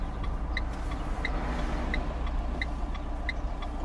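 A car drives along before parking, its engine a steady low rumble under faint, regularly spaced ticking, likely a turn signal, with no voices heard.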